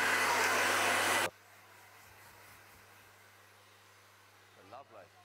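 A hair dryer blow-drying hair in a salon roars loud and steady for just over a second, then cuts off, leaving a quiet room with a faint low hum and a brief voice near the end.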